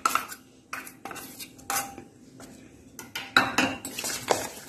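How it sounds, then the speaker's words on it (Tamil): A spoon stirs idli batter with sautéed onions in a bowl, making repeated close metallic clinks and scrapes in an uneven rhythm. "நல்லா மிக்ஸ் பண்ணிக்கலாம்."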